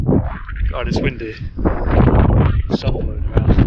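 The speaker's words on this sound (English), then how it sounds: "It's windy." Gusty wind on Scotland's North Coast 500 route buffets the microphone in rough, low rumbles while a person talks nearby.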